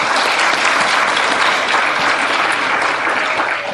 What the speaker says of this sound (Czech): Opět prosím o potlesk.